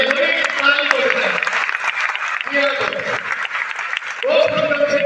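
Audience applause at an Amway India motivational awards event, a broad wash of clapping that carries through the whole stretch alongside a loud voice speaking over a microphone.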